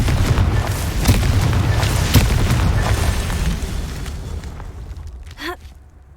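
A Confringo blasting spell in the Hogwarts Legacy video game detonates in a loud, booming explosion that rumbles and slowly fades over several seconds, with a brief whooshing effect near the end.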